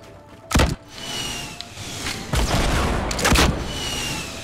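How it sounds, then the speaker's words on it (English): Gunfire in the video game Fortnite, a few sharp bursts of shots ringing out against buildings in a battle royale match, loud and spaced apart over quieter game ambience. "I'm shooting down buildings."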